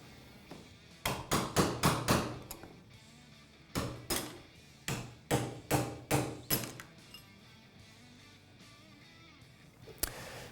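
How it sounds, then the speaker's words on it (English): A hammer drives a punch to knock spacers and bushings out of a KTM PDS rear shock clamped in a soft-jawed vise, making bursts of sharp metallic taps in quick rhythmic runs with pauses between them, close and clear. "Next, we can take our hammer and punch and remove these spacers or bushings."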